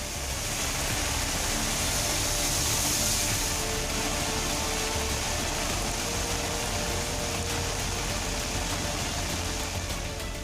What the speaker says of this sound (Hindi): वहीं केरल के कोट्टयम में भी बारिश हो रही है।